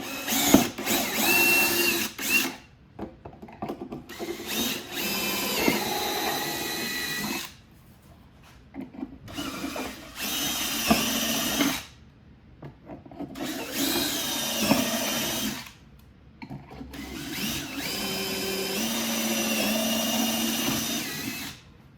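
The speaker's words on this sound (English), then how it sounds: "put that in your drill and go ahead and drill your pilot holes" A power drill whirs loudly in several bursts of a few seconds each while drilling pilot holes to mount an audio kit on a 2022+ BMW K1600 motorcycle, separated by short quiet pauses, close to the listener.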